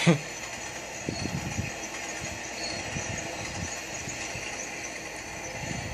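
Steady low rumble of a video game train (the Robert E Lee in Trainz 12) rolling along, with irregular clacks and thumps of wheels over rail joints throughout, fairly close and continuous.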